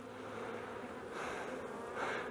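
Agitated bee swarm clustered on a fence, a continuous droning buzz from many bees close by, quiet but steady, swelling slightly toward the end.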